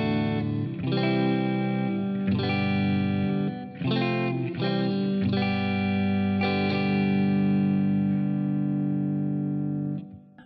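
Clean electric guitar tone from a Line 6 Variax through a Line 6 Helix, several sustained chords strummed one after another, ringing clearly and alone with gentle decay at the end.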